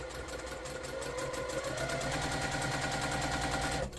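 A sewing machine chain-pieces quilt blocks with a fast, steady, close-up rattle of stitching that runs continuously and then stops abruptly at the end.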